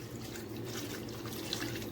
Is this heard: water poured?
yes